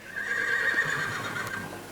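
A horse at a racehorse sale in Malaysia gives one clear, drawn-out whinny at moderate distance, rising and wavering through its call, with faint hoof clops beneath it and no talking.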